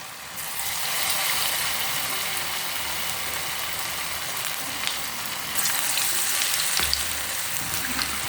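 Small rava dough balls deep-frying four or five at a time in a small kadai, a steady close hiss of bubbling oil that runs without pause and swells slightly near the end.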